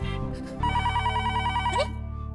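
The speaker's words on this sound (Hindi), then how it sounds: "अरे, टप्पू के पापा ने सामने से फोन किया।" A telephone rings loudly with an incoming call, a bright electronic ringtone that repeats steadily for nearly two seconds before cutting off.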